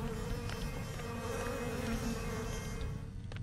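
Flies buzz in a dense, continuous drone in the horror game Hellcoming, a loud, steady hum with wings whining close by and no voices over it.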